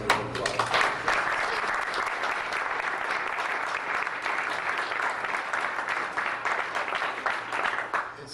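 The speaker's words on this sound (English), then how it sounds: "I think he gets the big round of applause." Audience gives a round of applause at an expo tribute event, a full, continuous burst of many hands clapping at moderate level that swells quickly, holds steady and fades slightly at the end.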